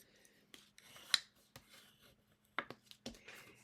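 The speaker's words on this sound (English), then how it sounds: "take my bone folder, and just burnish my fold" Bone folder burnishing the fold of a paper card base, a series of short, quiet scraping and rubbing strokes in an irregular rhythm, close up against near silence.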